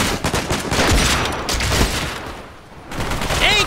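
Gunfire in a Fortnite match: dense rapid bursts of shots, loud and close, with a brief lull before more firing resumes, and no talking.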